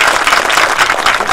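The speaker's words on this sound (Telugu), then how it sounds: "ఒకసారి గట్టిగా చప్పట్లు కొట్టాలి" Loud, dense applause from a crowd at a public gathering for a statue ceremony, a brief close burst of steady clapping with no pauses.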